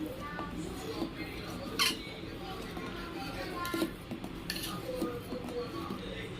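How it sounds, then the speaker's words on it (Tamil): Custard milk is stirred steadily in a pot, with soft metallic scraping and clinks of a utensil against the pan. A few brighter knocks stand out over a low kitchen background. "அதனால் இந்த அளவுக்கு கிண்டிகிட்டே இருக்கணும்."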